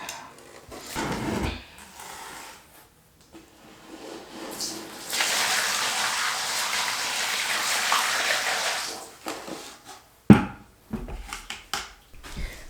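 Water pours steadily for a few seconds into a plugged custom shower pan during a water test, splashing close by, with clattering handling noises before and after.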